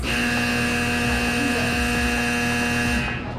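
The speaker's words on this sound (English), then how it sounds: "We've just launched our missile." A simulated missile launch: steady loud roaring rumble with a constant tonal hum and buzzing overtones, sustained for about three seconds before cutting off abruptly.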